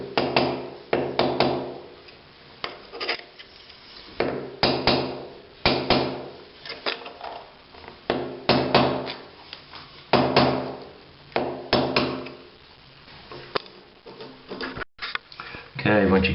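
Repeated hammer blows on a hand chisel prying loose ceramic tile in a shower, sharp metallic knocks in irregular bursts, close and loud, with a few moments of speech between strikes.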